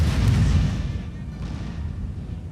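Artillery fire in the Napoleonic strategy game 1805 European Campaign, a heavy low boom that rolls out and decays, with faint further cannon rumble behind it.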